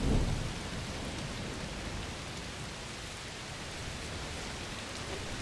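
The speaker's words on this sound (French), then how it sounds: "Oh, il pleut très fort. Un orage de chaleur, sûrement." Heavy rain of a thunderstorm in A Plague Tale: Requiem pours steadily as a constant wash of noise, with a low rumble of thunder at the very start and no voices.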